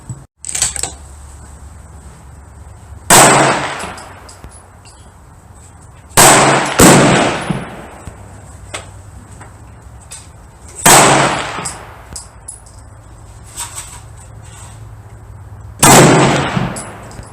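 A 7mm Remington Magnum rifle fires at a shooting range, with several loud, sharp reports spaced a few seconds apart. Each blast rings out and decays briefly, and the gaps between shots are quiet.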